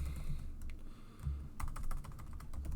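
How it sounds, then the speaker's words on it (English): Keys clatter on a computer keyboard in short, uneven bursts as Pokémon names are entered, soft and close with brief pauses between flurries and no speech. "You're going to type in your Pokemon's names."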